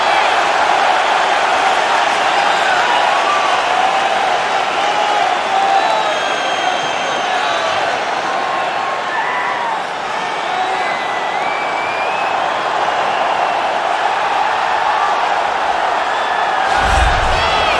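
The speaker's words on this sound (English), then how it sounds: "Crowd going crazy" Arena crowd in UFC 4 roaring steadily throughout a women's bantamweight title fight, a dense, continuous wash of cheering and applause with no pauses.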